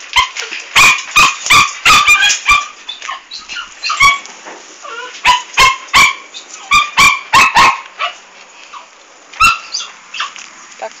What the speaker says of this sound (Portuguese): E o outro invejoso ali latindo.